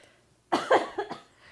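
A single close cough, sharp and throaty, followed by a short second burst, with near silence before it.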